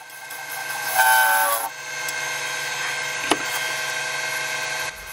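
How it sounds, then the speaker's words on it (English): A negative rake scraper works spinning wood on a lathe for a trinket box, giving a steady close whirring scrape with a brief louder squeal near the start and a single sharp tick midway, with no talk. "Using the negative rake scraper now."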